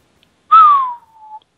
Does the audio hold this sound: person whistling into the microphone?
yes